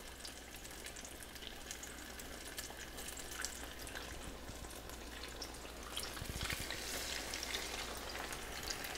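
Banana fritters frying in a pan of oil, a faint but steady bubbling sizzle that swells slightly louder toward the end, close and unbroken by speech.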